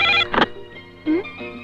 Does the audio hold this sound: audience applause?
no